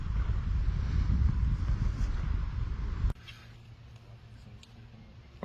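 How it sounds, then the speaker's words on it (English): Wind gusting around a kayak out fishing on open water, a loud steady roar buffeting the microphone for about three seconds before dropping abruptly to a quieter, lighter wind noise. "it's pretty windy out there on the kayak"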